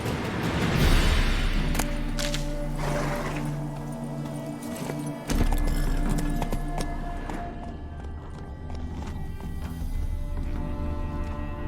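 Roach, the horse in The Witcher 3 video game, clip-clops along at a steady gallop with a game music score and ambient effects layered over the hoofbeats throughout.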